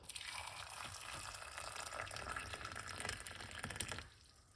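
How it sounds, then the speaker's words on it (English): Hot water pours over a few whole cloves, a steady splashing gush into a cup that runs for about four seconds and then stops, close and alone. "And pour some hot water."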